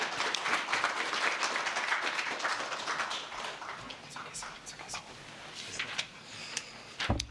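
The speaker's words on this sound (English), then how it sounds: "Another big round of applause, ladies and gentlemen, for the keynote address" A dense round of applause from an audience at a stock exchange listing ceremony starts strong, thins out midway and picks up again with scattered claps, heard from the room with some voices mixed in.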